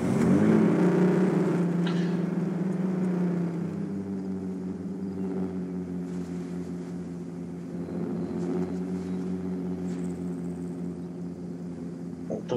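A Toyota Supra engine runs with a steady close droning hum, a little louder at the start and then settling into an even rumble, with no one talking.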